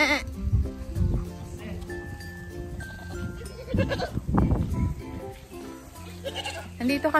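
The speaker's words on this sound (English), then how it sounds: "The goat is talking to you." A goat bleats repeatedly at a family home during a birthday visit, several loud, wavering cries close by, with people talking around it.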